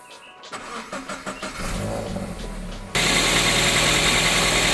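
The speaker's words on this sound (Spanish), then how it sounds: "Voy a arrancar el coche" A Toyota GT86 engine starts: a short cranking stutter, then the motor catches and settles into a loud, steady idle close by, with no talk over it.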